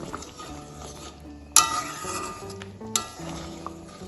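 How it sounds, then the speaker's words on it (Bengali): A spoon stirs a paneer curry of tomato gravy with a spoonful of fresh cream and a little sugar in a pan, scraping and clinking against the metal in a steady rhythm, with two sharper knocks on the rim and a faint sizzle underneath. "সব কিছু ভালোভাবে মিশিয়ে নেব।"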